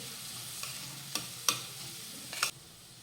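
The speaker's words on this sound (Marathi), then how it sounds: "आपल्याला ही कांद्यासोबत आलं लसूण पेस्ट परतून घ्यायची" Onion with ginger garlic paste sautéing in a pan, a soft low sizzle under a few distinct scrapes and clinks of stirring, faint and close, no talking.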